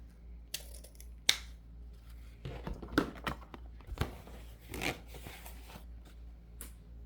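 Scissors cutting ribbon or mesh material for a two-sided Valentine's Day wreath, a few sharp snips and crinkly rustles spaced out over several seconds, close and quiet, with no voices.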